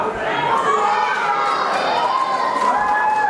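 A wrestling crowd at a UK Wrestling Mayhem show cheers and shouts steadily, a loud sustained roar of many voices including higher, children's voices filling the space.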